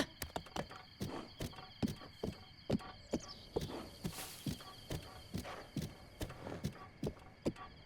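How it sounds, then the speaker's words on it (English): A horse's hooves in Zelda Breath of the Wild, a steady, even clip-clop of hoofbeats at walking pace, close and clear over a faint hum. "How am I supposed to get this horse out of here?"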